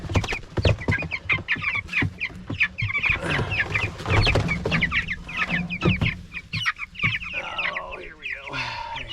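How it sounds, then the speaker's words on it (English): A rooster and a flock of backyard chickens clucking together, busy overlapping clucks and squawks close by, loud and continuous without talk. "And I have a laying rooster here."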